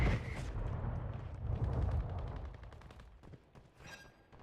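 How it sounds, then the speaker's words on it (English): Missile strike explosions rumble in Call of Duty on Rebirth Island, a heavy, loud barrage of booms and crackling blasts that fades into scattered distant pops. "Firing missile at target coordinates."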